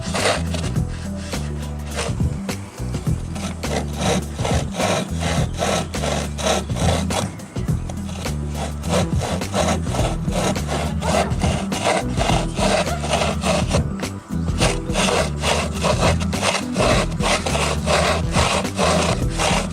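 A hand saw cuts through a wood piece clamped in a vise, with a steady, fast back-and-forth rasping rhythm of even strokes, loud and close, continuing with only a brief pause.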